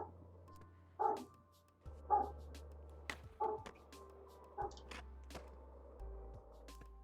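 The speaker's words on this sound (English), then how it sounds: "My dog bark." A pet dog barks a few times at moderate distance, short separated yelps spaced over several seconds against a steady low hum.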